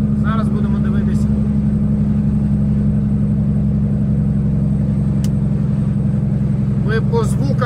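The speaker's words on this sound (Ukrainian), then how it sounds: "Ви по звукам двигуна можете все якби розуміти, що відбувається." A car engine strains as it crawls uphill, a loud, steady low rumble that stays close throughout while someone talks over it.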